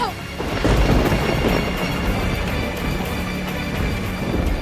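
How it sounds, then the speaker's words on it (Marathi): Heavy rain pours down with a deep rolling rumble of thunder running through it, loud and close, with no voices. "किती पाऊस!"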